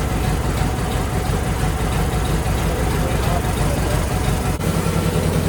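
A 1946 Ford 2N tractor engine with serious blow-by idles nearby, a steady loud low chugging drone that runs unbroken through the whole stretch.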